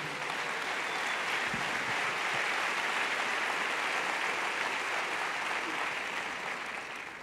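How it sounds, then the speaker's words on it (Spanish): A church congress audience applauds together at a large Latin American gathering, a full, sustained wash of clapping from a big crowd that holds steady for several seconds before easing slightly. "Dar un aplauso a Jesús."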